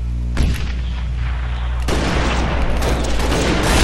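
Sniper rifle shots ring out during a 4v4 MLG match of the video game Halo Reach: two sharp, heavy booms with the second followed by a dense, rumbling wash of gunfire and game noise.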